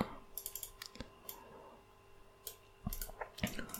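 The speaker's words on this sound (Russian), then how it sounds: "когда мышка под рукой и записывается звук, совершенно не нужно визуализировать клики на экране" Crisp, quiet computer mouse clicks come in irregular single and double taps during map editing, close and alone with no talking.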